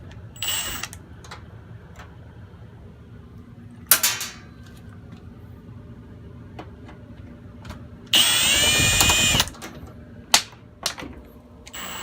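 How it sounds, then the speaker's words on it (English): A power drill unscrews screws from a washing machine: short whirring bursts, one of them longer and louder, separated by quiet gaps with a few clicks and knocks. "Go ahead and unscrew these screws."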